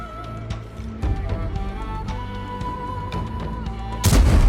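Tank guns firing in World of Tanks during a battle on the Pearl River map, a few sharp distant shots over a low steady engine rumble, ending in a loud close blast.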